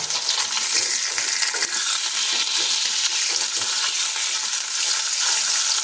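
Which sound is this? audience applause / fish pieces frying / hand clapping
fish pieces frying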